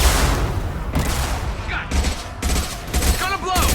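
Bursts of rapid gunfire in the Mass Effect 2 video game, loud and close, coming in several volleys with short gaps and a voice talking briefly between them.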